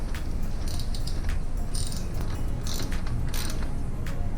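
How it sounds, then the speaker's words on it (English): Ratchet wrench with a 19 mm socket snugging a clamp during an Electro and Company Extreme Razor MX650 build, giving a steady run of fine clicking that holds for the whole stretch with no talk. "19 millimeter socket. Just get it snug to where the clamp is up all the way."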